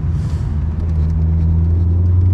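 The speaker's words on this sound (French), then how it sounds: "Bien secoué dans la Corvette." Chevrolet Corvette C5 with a 350 hp engine, a deep loud rumble from inside the car while driving, steady and low with a throaty growl that holds throughout.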